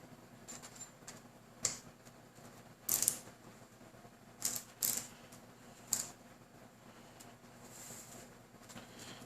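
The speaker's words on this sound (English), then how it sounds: "we'll get the screw started, which will help us out a little in maintaining orientation on everything" A screw is driven into a Tamiya flatbed trailer model, producing faint scattered clicks and a few sharper ratcheting snaps over a quiet background hum.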